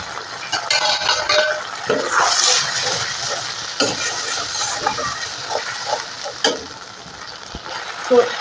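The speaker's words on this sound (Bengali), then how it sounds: "প্রথমে মশলাটাকে ভালো করে কষিয়ে নেব।" Ground spice paste with fenugreek, cumin and green chillies frying in mustard oil, a loud continuous sizzle with frequent scraping stirs of a spatula against the pan.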